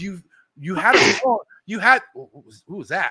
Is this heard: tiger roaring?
no